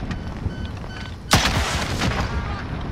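Video game gunfire erupts as an armored vehicle comes under attack, with a sharp loud burst of shots after a quieter stretch, followed by continuing crackling fire and impacts.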